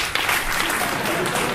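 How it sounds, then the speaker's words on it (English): An audience at a data-careers panel event claps in a brief, dense burst of applause, moderately loud throughout. "So a round of applause for him, please."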